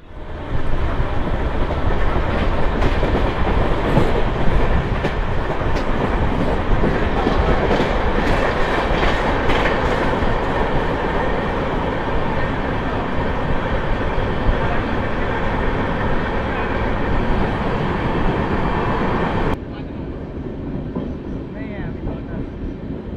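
The Kolkata Jammu Tawi Express pulls out of Durgapur station with a loud, continuous rumble and rhythmic clickety-clack of its wheels. Voices murmur faintly beneath, and the noise drops sharply near the end.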